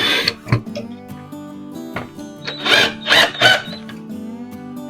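A power drill whirs in short bursts while driving self-drilling screws into a cedar raised bed for a patio garden. Sharper, louder bursts of whine and grinding come in the middle.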